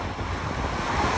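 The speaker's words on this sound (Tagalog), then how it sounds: "Malakas ang hangin" Strong wind at Manila Bay's Dolomite Beach buffets the microphone in a loud, steady rumble, with surf-like noise underneath and no talking.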